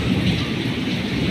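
Heavy rain pours down in Jeddah during a storm, a loud, dense, unbroken hiss and patter close at hand with no break.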